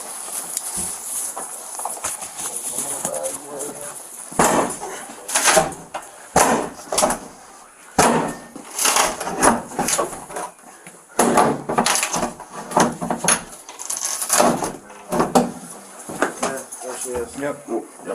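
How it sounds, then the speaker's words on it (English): Repeated heavy banging on a locked bathroom door, loud irregular bursts of knocks and thumps in clusters, with people talking and shouting around it. "Did you hear us banging?"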